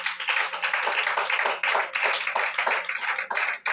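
Congregation at a prophetic church service clapping in a brisk, steady rhythm, loud and close, with faint voices underneath.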